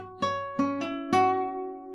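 Acoustic guitar plays a riff at a slower pace, four distinct plucked notes that ring into one another, close and clear with no voices.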